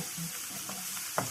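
Masala and spices being sautéed in a pan for paneer mutter masala: a steady soft sizzle with light stirring scrapes and one small clink near the end.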